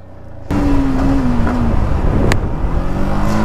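A KTM Duke 390 motorbike engine starts up loud and close, droning steadily with slight changes in pitch as it revs during a ride.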